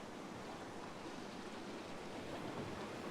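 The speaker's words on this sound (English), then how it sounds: "as it was starting to get a decent depth, it was starting to push these big rollers in" Rough sea surf rolls in over a reef off a beach during a fishing competition, a steady broadband roar of breaking waves that stays fairly constant throughout, with no voices.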